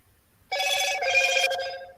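A phone notification chime rings out, a bright tonal electronic ringing that starts abruptly and sustains for about a second and a half before fading, clear and close with no talk over it.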